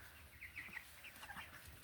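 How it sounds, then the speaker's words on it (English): Young meat chickens, 23 days old, cluck and chirp in short, faint bursts inside their pen, several birds overlapping briefly at a distance. "Okay, that's a rooster."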